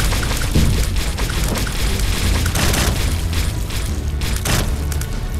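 Bomb blasts in The Binding of Isaac, a loud continuous rumble of booming explosions with several sharper bursts layered over one another, no voices.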